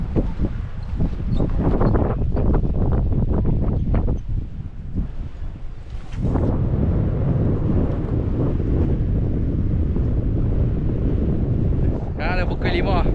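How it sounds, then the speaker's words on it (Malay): Strong wind buffets the microphone on a fishing boat at sea, roaring steadily and loudly throughout with brief dips, while a voice speaks over it in places. "Angin masih kuat."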